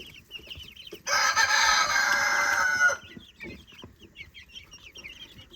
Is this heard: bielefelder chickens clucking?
yes